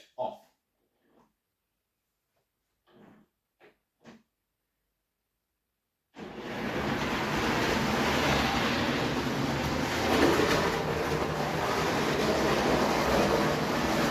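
A model train sets off on its track: after a few seconds of near-silence with faint knocks, a steady rushing mechanical hum starts abruptly and runs on continuously, fairly loud and close.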